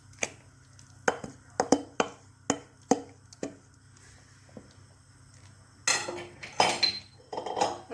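A utensil clinks and scrapes against a pot while harira soup paste is stirred in, giving a series of sharp metallic taps followed by busier, rougher scraping and knocking.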